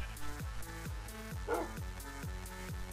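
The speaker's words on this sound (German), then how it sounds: "Habt ihr den auch gerade kläffen gehört?" A dog in the Minecraft video game yaps in a quick repeating series of short, bright barks and yips, close and fairly loud, continuing evenly throughout.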